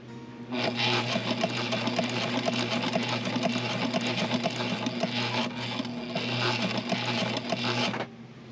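A Sailrite sewing machine stitches cushion material aboard a boat, with a fast, loud mechanical chatter of stitching that runs almost without a break and a short pause near the middle before it stops.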